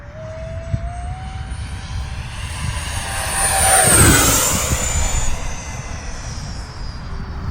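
A Freewing Mirage 2000C V2 radio-controlled jet with an 80mm electric ducted fan screams past at full throttle, a loud rising whine that swells to a close pass and then falls away in pitch, with steady wind rumble underneath.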